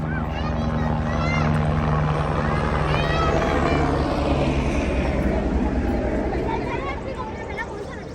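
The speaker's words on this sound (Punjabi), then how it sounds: "ਤੇ ਹੈਲੀਕਾਪਟਰ ਵੀ ਆਪਣੇ ਆ ਰਹੇ ਨੇ ਆ ਤੁਸੀਂ ਦੇਖ ਸਕਦੇ ਹੋ" A helicopter's engine drones steadily overhead on the mountain trail from Govindghat to Govind Dham, its thrum fading slightly toward the end, while people talk beneath it.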